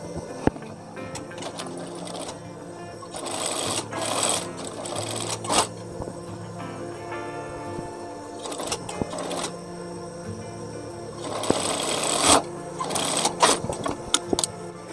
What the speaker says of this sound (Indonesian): Kita sambung bagian pundak, badan depan dengan badan belakang dengan kampuh jahitan 1 cm